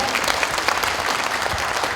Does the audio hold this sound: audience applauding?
yes